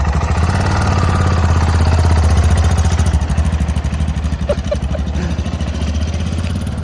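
Yamaha Tenere 660 motorcycle engine running and pulling away, a loud, steady single-cylinder thrum close by that gradually eases as the bike rides off.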